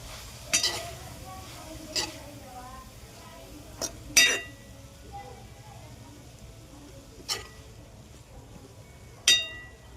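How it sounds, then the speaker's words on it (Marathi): Dill greens with lentils sautéed in a pan, marked by sharp metallic clinks of a utensil against cookware at irregular intervals over a soft background, with a person talking at times. "त्यात थोडंसं हे मीठ ऍड करणार आहे आता व्यवस्थित परतून घ्यायचे भाजी"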